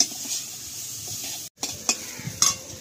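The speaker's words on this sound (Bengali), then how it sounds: "চিকেন ভাজা মোটামুটি অলমোস্ট হয়ে গেছে, এবার নামাবো" Chicken fries in a pan over a wood-fired stove, giving a steady close sizzle broken by stirring scrapes and a few sharp utensil clinks, with one brief dropout midway.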